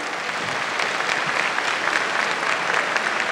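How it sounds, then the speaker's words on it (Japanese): Loud, dense audience applause fills a kickboxing event at a RISE World Series 2023 card, a steady wash of clapping from a large crowd with no pauses. "今一度盛大な拍手をお願いします。"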